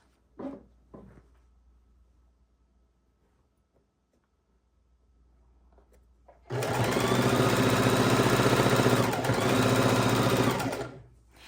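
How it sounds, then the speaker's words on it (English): A sewing machine stitching a quarter-inch seam to attach the binding on a Christmas quilt starts after a few quiet handling clicks, then runs loud and steady, close up, for about five seconds with a brief dip near the end. "For the binding, we're sewing our 1/4 inch seam."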